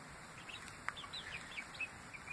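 Young meat-breed cockerels attempt their first crows, giving thin, squeaky, rising calls mixed with chirps, fairly faint and repeated over steady farmyard background noise.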